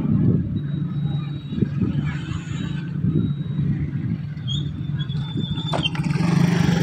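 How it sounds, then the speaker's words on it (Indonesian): A heavy Fuso box truck engine rumbles steadily nearby, a low drone passing with road noise and faint background voices. "Nah, ini mobil kontainer nih"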